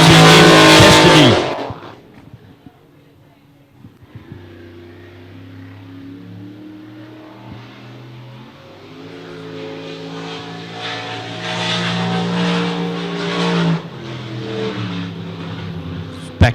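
The hydroplane race boat Destiny accelerates hard during Gold Cup practice. A loud roar passes at first, then a rising turbine whine builds and swells with pitch shifts as the boat speeds up. It stays distant to mid-range.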